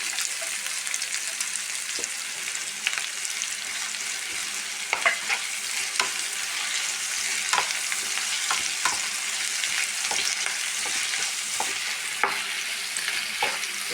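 Sliced carrots sautéing with salt and onions in a pan, a steady close sizzle broken by frequent scraping stirs and light clinks of the spoon against the pan.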